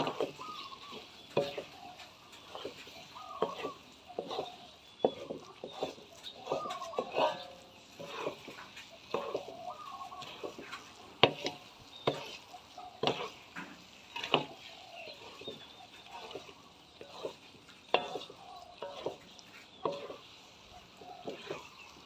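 Soft, irregular scraping and thick, sticky stirring noises of sticky rice stir-fried with coconut milk over low heat in a pan, repeating steadily with faint kitchen sounds beneath.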